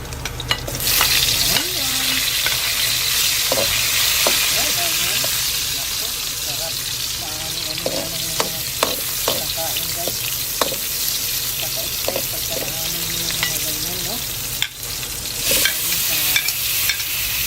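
Garlic fries until golden brown for chicken afritada, a loud close sizzle in hot oil with frequent stirring scrapes against the pan, while a person talks intermittently.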